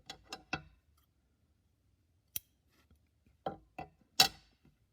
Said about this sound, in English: I'm going to trim this.